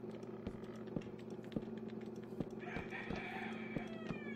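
Minecraft chicken clucking faintly in short repeated calls over a low steady in-game background with regular soft ticks, quiet and somewhat distant.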